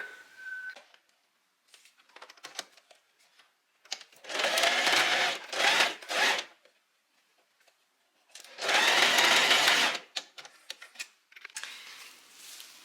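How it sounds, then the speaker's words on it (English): A sewing machine stitches across a dress seam in two loud sustained bursts of fast needle rattle, separated by quieter clicks and handling noises. "And now we sew across here."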